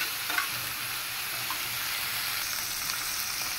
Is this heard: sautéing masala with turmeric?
yes